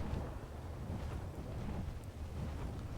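Thunder rumbling in the ARK Lost Island video game, a low, continuous, wind-like roar of moderate loudness with no break, and no voices over it.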